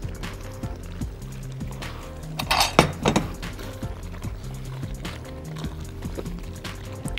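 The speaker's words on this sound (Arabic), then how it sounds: "هنزل بالباستا،" Pasta is tipped into simmering arrabbiata sauce in a pan and stirred, giving soft clinks, a wet scraping swirl and low bubbling up close.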